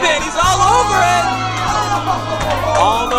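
Loud crowd at a candlepin bowling match erupts in cheers, whoops and yells, a dense sustained roar with shouting voices throughout.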